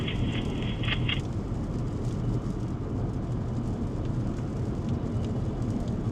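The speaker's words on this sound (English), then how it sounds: "It's hard to see through the rain." Steady rain during a storm in Wisconsin, heard as a dense, constant broadband rush without letup for the whole stretch, with a brief high whine near the start and no speech.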